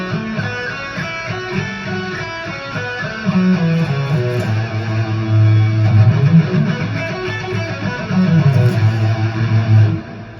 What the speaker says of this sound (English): Now we're going to move on to the major pentatonic scale.